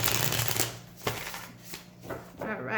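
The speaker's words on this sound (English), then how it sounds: "let me go ahead and start pulling those cards for you" Tarot cards being shuffled during a Gemini reading, a close riffling flutter followed by a few separate card slaps, with a voice speaking over them.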